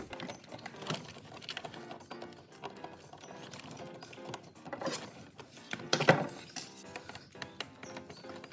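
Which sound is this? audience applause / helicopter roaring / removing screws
removing screws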